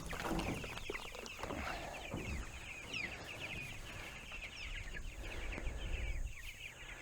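Broiler chickens on a farm, a steady chorus of soft clucking and chirping from many birds spread across the whole stretch, faint and continuous.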